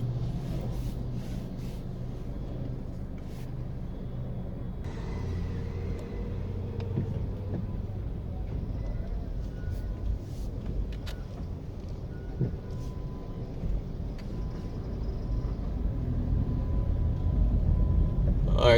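A car driving along city roads near Half Way Tree, with a low steady engine and road rumble from inside the cabin, faint clicks and traffic noise, and the drone growing louder toward the end.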